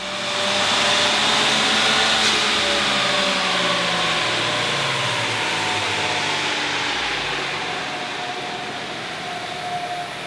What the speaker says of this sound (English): With our dyno mode unlocked, we can do a power run on the factory ECU tune.